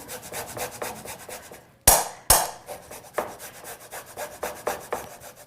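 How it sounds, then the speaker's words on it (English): A large garlic clove is grated for khachapuri, steady rhythmic rasping strokes close by, interrupted by two sharp knocks near the middle before the scraping resumes. "I have this monster clove, so I'm calling that 2 cloves. I think it's the equivalent. I'll just grate that right in."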